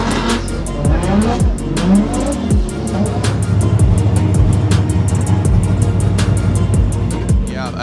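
Loud engine noise from a royal purple BMW drift car at a Formula DRIFT event in St. Louis on a wet track, with repeated tire squeals and revving over a steady roar while a commentator talks throughout.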